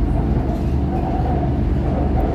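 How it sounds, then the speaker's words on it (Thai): Bangkok BTS Green Line skytrain running, a loud steady low rumble and rolling drone from inside or near the moving train, without talking. "ซึ่งรถไฟฟ้าสายนี้จะเข้าในเมืองนะครับ"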